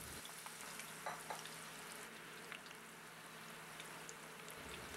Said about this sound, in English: when the oil is hot, we fry for the second time